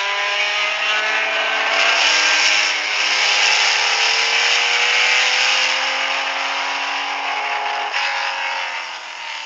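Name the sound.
race cars at the 1978 24 Hours of Le Mans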